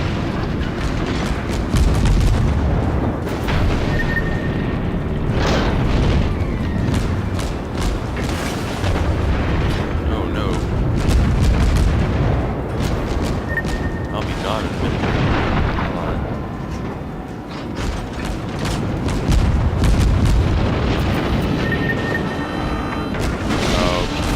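Deck cannons firing in the naval battle game World of Warships, heavy booming blasts and explosions rolling over one another in a dense, continuous barrage of battle noise.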